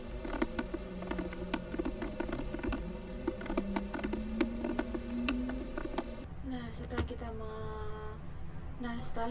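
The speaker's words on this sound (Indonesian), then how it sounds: "saya akan mengetik query-nya dengan cara select" Rapid clicking keystrokes as a database query is typed on a computer keyboard, a dense patter over a faint background hum that thins out toward the end.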